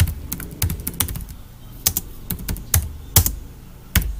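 Someone types a title on a computer keyboard in a quick, irregular run of close key clicks, with brief pauses between bursts and no talking.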